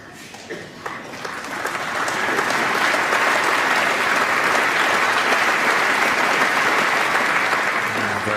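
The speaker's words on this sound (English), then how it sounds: "Generous round of applause for that excellent safety shot" Audience in a snooker arena at the 2018 Masters applauds a thin safety shot, a steady wash of clapping that swells after the first couple of seconds and holds loud and sustained.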